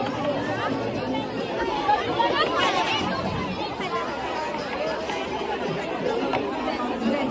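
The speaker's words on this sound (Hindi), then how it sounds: "तो लकी ड्रॉ में तो भीड़ बनी पड़ी है।" Dense crowd chatter around a lucky draw stall at a school fete in Bageshwar, a continuous babble of many overlapping voices close by.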